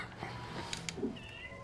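A cat in the secret cat room of the video game Indivisible meows a few short times, faint and slightly distant within low game ambience.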